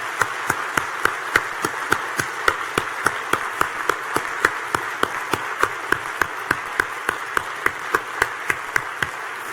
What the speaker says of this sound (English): I'm just going to give them a round of applause